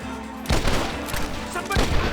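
Gunfire in Red Dead Redemption, two loud close shots a little over a second apart, each with a sharp crack and a rolling boom, over a busy background.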